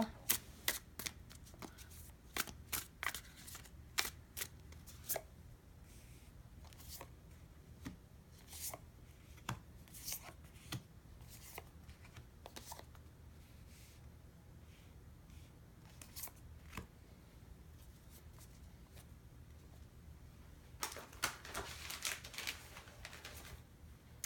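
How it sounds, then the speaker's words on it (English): Cards are shuffled and riffled repeatedly, with sharp clicking flutters in irregular bursts, fairly quiet, ending in a denser flurry. "I've already shuffled quite a bit"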